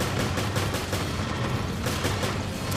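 Rapid machine gun fire in Resident Evil Revelations, a loud continuous stream of close shots in quick bursts.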